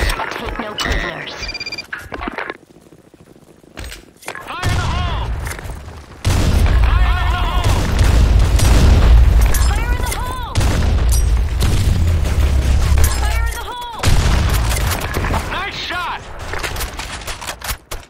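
Busy gunfire and heavy explosive booms from the Blackshot video game, with rapid shots, deep rumbling blasts and bright electronic game effects layered together, plus short recorded voice announcements in between.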